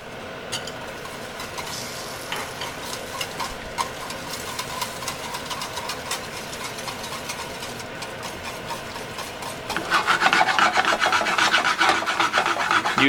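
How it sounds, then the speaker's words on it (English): Whisk scraping and rasping steadily against a pan of butter sauce for shrimp scampi, a continuous metallic rub that grows louder and busier in the final few seconds, with no talk. "use one hand to whisk and use the other hand to kind of move the pan around"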